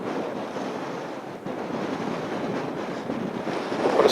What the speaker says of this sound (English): Seems to have a constant wind blowing up the hill.